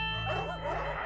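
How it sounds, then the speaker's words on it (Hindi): Dogs barking at night, a dense, continuous wash of overlapping barks and yips at moderate loudness with a steady low hum underneath, no clear gaps between calls. "आज कुत्ते कितने भौंक रहे हैं,"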